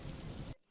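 Cartoon-style rain effect of steady, dense falling rain, loud and continuous like a downpour outside, cutting off abruptly to near silence.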